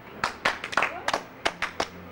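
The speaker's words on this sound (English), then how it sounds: "Big clap now, people, please." A small audience claps after a live performance of a song, a sparse scattering of distinct individual hand claps at an uneven rhythm, fairly quiet and close.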